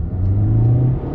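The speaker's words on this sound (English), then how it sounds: "On throttle, here we go." A 2020 Toyota Corolla SE with a 6-speed manual pulls away from a standstill, its engine droning and rising steadily in a loud, close hum inside the car.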